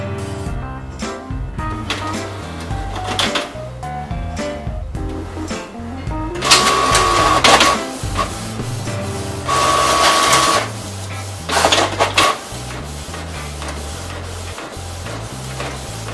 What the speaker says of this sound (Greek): Και τέλος θα δοκιμάσω να δω την ταχύτητα για την έγχρωμη εκτύπωση.